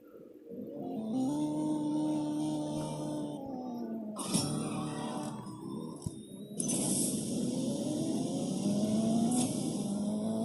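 Racing video game car engine accelerating through gears, the pitch climbing and dropping at each shift, with two sharp breaks before it winds up again steadily.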